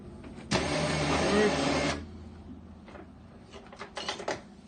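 An electric winch on a Can-Am ATV whirs steadily for about a second and a half, a close, loud motor hum, then stops, followed by faint knocks and rattles.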